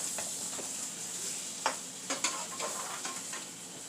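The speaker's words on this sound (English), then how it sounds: "She's about to scramble the eggs up so we can have some eggs for breakfast with our food" Eggs are scrambled in a pot on a stove. A soft, steady sizzle runs underneath, broken by a few sharper scraping stirs close by.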